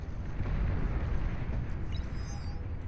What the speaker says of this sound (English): Big explosions as the Juno missiles collide with the landmines